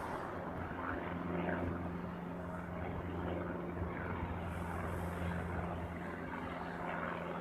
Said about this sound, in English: This is the first of two Dreamliners that come into American Dreamliners that come into Hawaii or Honolulu every day.